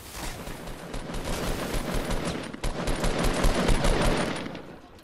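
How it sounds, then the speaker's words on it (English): Dense, rapid gunfire crackles in an online shooter video game, bursts of shots tumbling over each other in a loud, sustained volley with only a brief dip midway. "We getting sniped at from the house"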